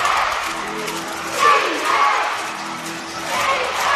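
Crowd at an NBL pre-season basketball game between Melbourne United and South East Melbourne Phoenix roars and cheers in swelling waves, with a commentator talking over the arena noise.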